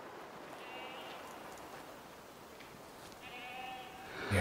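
Goat bleating in the hunting video game Way of the Hunter, a faint distant call rising twice over a steady outdoor wind ambience.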